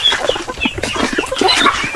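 Small ducklings and chicks on a farm: a dense, close chorus of cheeping and clucking from many young birds, continuous and busy throughout the short clip.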